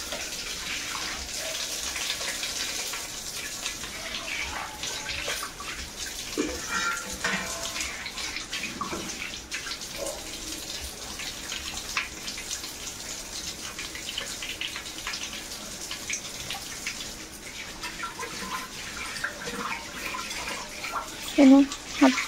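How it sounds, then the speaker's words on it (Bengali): Tap water runs steadily as soapy hands are washed at a household tap after cooking meat, a continuous splashing hiss with small bursts of louder splashing near the end. "চলো হাতটা ভালো করে ধুয়ে নিই"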